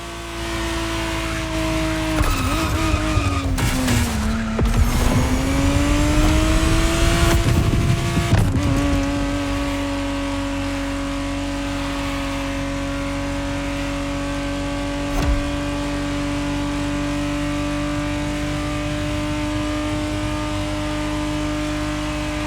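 A 1991 Ferrari 512 TR Testarossa in The Crew Motorfest, its engine revving hard through several surging pulls for a few seconds, then settling into a steady, droning cruise tone that holds to the end.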